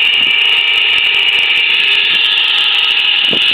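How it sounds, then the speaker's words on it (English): Wind blowing through a fence makes a loud, steady aeolian whine, a continuous high-pitched tone that holds without a break, with faint low rustles beneath. "it's the sound of the wind blowing through the fence"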